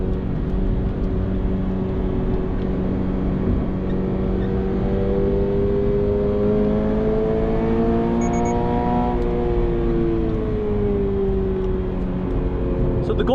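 A Subaru BRZ or Toyota GR86 driven hard on a race track, its engine droning loudly and steadily with pitch sweeping up and down through sweeping turns, a person talking over it.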